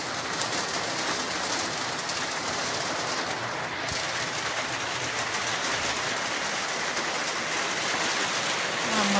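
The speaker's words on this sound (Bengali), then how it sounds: "বাইরে বৃষ্টি হচ্ছে" Steady rain falls outside a home, a constant broadband hiss running evenly throughout with no talk, while a bird coos faintly in the background.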